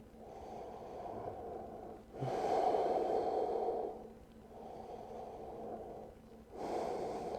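Slow, deep yoga breathing while lying on the floor: long breathy inhales and exhales in alternating swells, close and fairly loud, with no talking.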